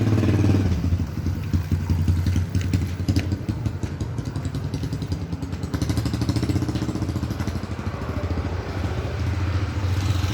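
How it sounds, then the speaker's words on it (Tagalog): A motorcycle engine putters nearby with a rough, rhythmic idle, loud and continuous, with some clattering mixed in. "Ang ingay ng motor."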